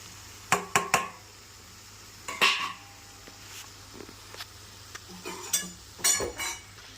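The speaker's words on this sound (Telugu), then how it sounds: "దాన్ని ఒక 2 నిమిషాలు బాగా కలుపుకుందాం" A spoon scrapes and clinks against a pan while previously fried okra pieces are stirred into masala, giving several sharp close metallic knocks in uneven bursts with quiet gaps between them and a faint sizzle underneath.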